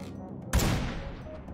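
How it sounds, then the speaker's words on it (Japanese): A sudden burst of gunfire in the battle royale video game New State, loud and sharp, followed by a decaying reverberant tail. "なんか銃声してるぞ"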